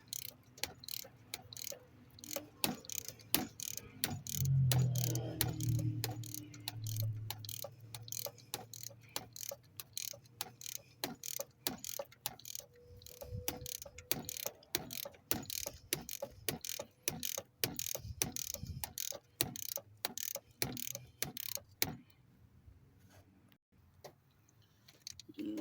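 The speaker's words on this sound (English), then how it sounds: "This ratchet actually has a telescoping handle, so it extends out" A ratchet with an extended telescoping handle turns exhaust manifold bolts on a 2007 Chevy Silverado during a stainless steel manifold install, giving a steady run of crisp, close clicks over a quiet background.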